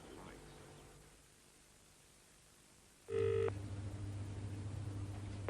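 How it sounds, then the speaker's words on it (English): A telephone rings unanswered in a 1995 murder reconstruction: a short electronic ring burst cuts in after a quiet hiss, followed by a steady tonal hum. "I've been ringing long enough."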